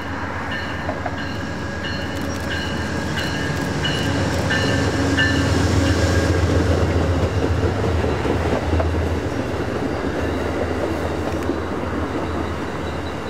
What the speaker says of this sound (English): as Amtrak's Pennsylvanian approaches its station stop in Altoona